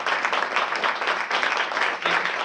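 A crowd at a Malden Republican City Committee event claps together in a dense, even patter that carries on steadily for a couple of seconds.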